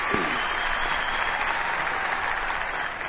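Steady audience applause at a Carlos Ballarta stand-up comedy show, a dense wash of clapping that holds at an even level for about three seconds, with no one speaking.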